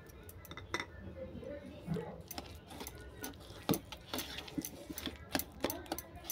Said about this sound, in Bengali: আবারও এটাকে ভালো করে মিশিয়ে নেব।